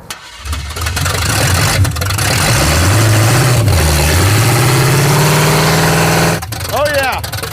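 Supercharged Boost Caboose car engine cranking and starting, catching into a loud rough idle that rises and dips with revs before cutting off, followed by another brief crank, with voices nearby.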